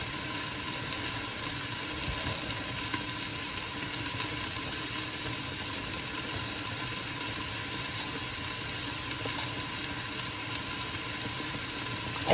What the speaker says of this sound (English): I do want to keep stirring this because I do not really want, I don't want it to start sticking to the bottom